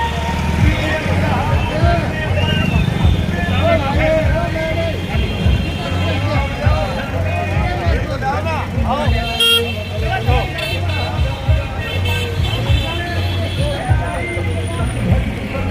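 A rally convoy of hundreds of vehicles moving through a street in Rewari, with repeated car horns tooting over engine rumble and crowd hubbub, and someone talking over the noise.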